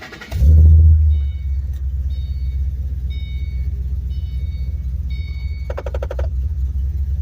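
A 2008 Ford Mustang Bullitt V8 cranks and fires up with a loud deep roar, then settles into a steady rumbling idle; a short rapid clicking from the intake plenum sounds near the end.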